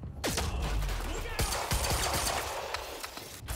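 Gunfire in the video game Quantum Break, a loud, busy burst of rapid shots and impacts running across the scene at close range, with game effects mixed in.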